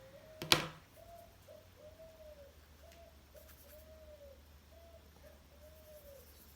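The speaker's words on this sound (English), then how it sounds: "some birds start to sing. They're saying goodbye to the sun." Birds sing at dusk, giving a soft, dove-like cooing phrase repeated about six times in a slow, even rhythm, faint and fairly distant, after one sharp click near the start.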